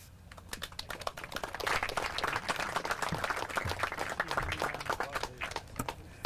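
Audience applause at a boat launch dedication, a dense patter of many hands clapping that swells after a quieter start, close and steady, with no talking over it.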